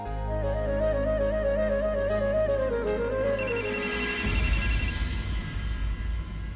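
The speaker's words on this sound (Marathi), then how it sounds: "काही झालं तर नाही ना, फोन करून बघते." A phone ring tone sounds over background music in a TV serial scene, a repeating electronic melodic ringtone that comes in partway through and rings a few seconds before fading under the score.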